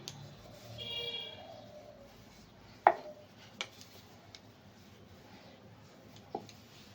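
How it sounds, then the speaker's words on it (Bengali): A knife cuts rolled dough into small pieces for khasta goja, giving a few separate sharp taps against a board with quiet pauses between them. "এবার আমি রুটির মতন করে বেলে নিয়ে ছোট ছোট পিস করে কেটে"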